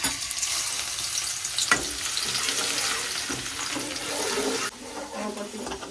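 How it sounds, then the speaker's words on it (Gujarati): Garlic dropped into hot oil for kantola shaak, a continuous loud sizzle and crackle with a few stirring knocks, easing slightly near the end. "લસણ નાખી દઈએ."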